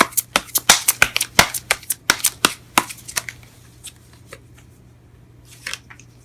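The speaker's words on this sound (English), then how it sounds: "Can I have one more card for the High Priestess, please?" Tarot cards being shuffled up close, with a quick run of about a dozen crisp card snaps that slows and fades out, followed by a few soft card handling sounds at the end.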